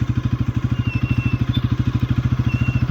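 A motorcycle engine chugs in a steady, rapid low thump, close by and even-paced, as the bike pulls away slowly with the clutch gently released.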